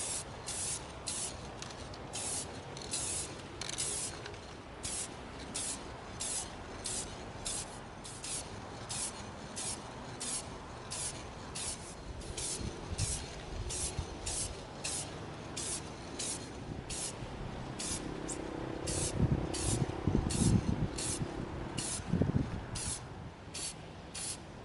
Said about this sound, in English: we're going to be spraying in here with our awesome copper shiny spray paint